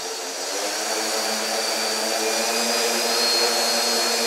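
The motors of a CarbonCore Y6 multicopter hover inside a garage, a dense, steady buzzing whir that climbs slightly in pitch and loudness as the throttle creeps up, with no talk.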